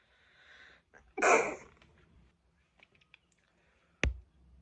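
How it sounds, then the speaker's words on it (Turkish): A single sharp sneeze, close and loud, preceded by a soft breathy intake, followed by quiet and a sudden knock near the end. "Hapşıracağım."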